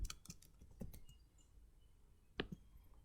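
Sparse clicks of keys on a computer keyboard, a few quick bursts of typing separated by quiet pauses, close and faint.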